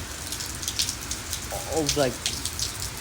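Steady rain falls outdoors, a constant hiss of drops hitting surfaces; a voice speaks briefly partway through.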